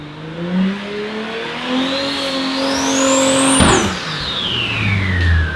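A turbocharged car engine revs hard at high boost, around 15 to 20 psi, through a see-through intercooler. The loud, close note climbs steadily, then cuts off sharply with a burst and falls away.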